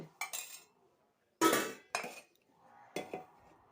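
A metal cooking pot is taken off the stove, clanking with utensils in a few separate bursts, close by, with quiet pauses between the knocks and scrapes.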